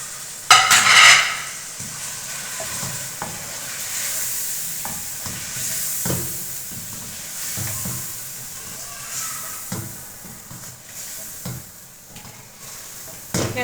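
Chicken frying in a pot with onion and garlic for biryani, a steady sizzle with stirring scrapes and occasional clinks of a spoon against the pot, fairly close and continuous.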